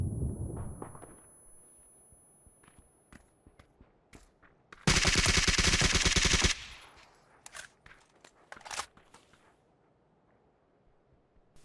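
Automatic gunfire in PUBG, a sustained burst of rapid shots that lasts nearly two seconds, surrounded by scattered single shots and quieter game noise before and after.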